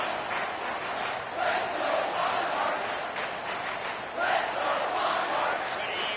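Home crowd at a college football game between Old Dominion and Wake Forest keeps up a steady, broad roar of cheering that swells slightly midway and again near the end, with no clear talk above it.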